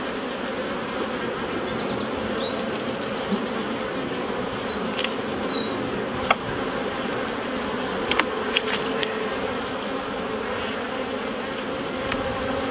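A dense, steady drone of many honey bees buzzing close at an open hive, with birds chirping faintly in the background and a few soft clicks.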